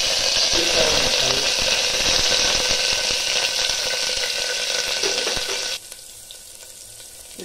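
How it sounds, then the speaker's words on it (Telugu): Onions frying with dried red chillies and curry leaves in a pan make a loud, dense sizzle that suddenly drops away to a much quieter hiss near the end. "ఉల్లిపాయలు సగం వేగాయి"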